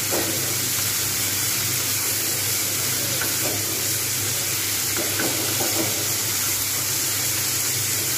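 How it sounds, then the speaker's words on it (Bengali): Sabudana khichdi with vegetables fries in a pan while being stirred, giving a loud, dense, continuous sizzle and steamy hiss close up, with faint scraping throughout. "এইবার আমি সুন্দরভাবে এগুলো কিন্তু এভাবে ভেজে নিতে হবে"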